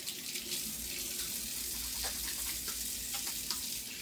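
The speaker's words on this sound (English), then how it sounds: "let me wash my hands real quick" Tap water runs steadily into a sink as hands are washed, a continuous close hiss with soft splashing variations and no talk.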